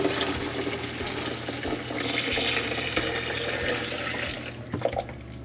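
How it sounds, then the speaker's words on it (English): Wild grape juice poured in a steady, close, rushing stream that runs on without pause for several seconds, with a few light splashes near the end and no talking. "so we're gonna pour the juice now"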